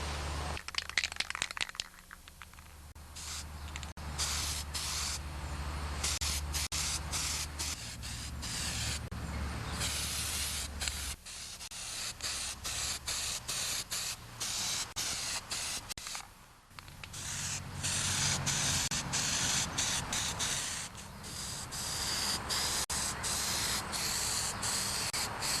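A spray can of primer coats John Deere 316 tractor grill parts laid outdoors in the shade, in long continuous hissing bursts separated by short pauses and can rattles, close and steady, with no talk.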